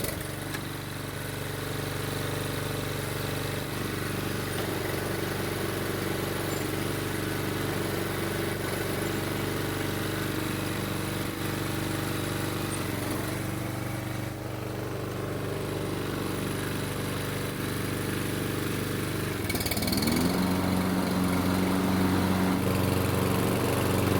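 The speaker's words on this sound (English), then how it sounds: "Once we get the oil into the engine, we better start it to make sure that we didn't mess something up." A Toro lawn mower engine, freshly filled with oil, starts and runs at a steady, loud, close-up drone, holding an even rough roar throughout with a slight shift in pitch near the end, and no talking.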